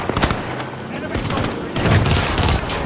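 An automatic gun firing in a Call of Duty match, rapid loud bursts of shots in quick succession, with excited voices talking over the gunfire.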